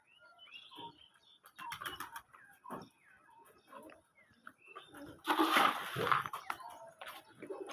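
Domestic pigeons coo in soft, scattered calls, with a loud burst of wing flapping near the end; a person's voice is faintly present at times.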